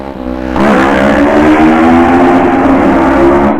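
Kawasaki ER6NL LAMS edition motorcycle engine revving hard after a quieter idle, a loud, steady throaty drone with rising harmonic pitch that holds strong to the end.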